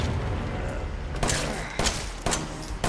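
Gunfire in the video game Resident Evil 7: several sharp, loud shots go off in a quick, uneven burst over steady background game noise.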